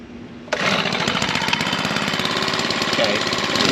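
A Stihl BG 86 two-stroke petrol leaf blower, set on half choke, bursts to life after a brief lull and then holds a loud, rattling, buzzy engine roar nearby without pause.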